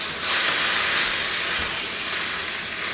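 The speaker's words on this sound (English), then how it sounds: "It's sauteing up nicely." Chicken, bell pepper and onion sauté in a pan with a loud, steady sizzling hiss, continuous and close, with no talking.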